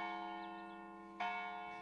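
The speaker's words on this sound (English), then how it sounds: "The mission bells are the heartbeat of San Miguel." A bell at Mission San Miguel rings with a long, sustained metallic hum, and a fresh strike lands partway through. The ringing is steady and moderately loud.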